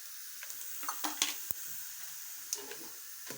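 Chana dal, pepper, mustard seeds and cumin frying in hot oil, with soft sizzling and scattered crackles and pops at irregular intervals, quiet and close, with no talk.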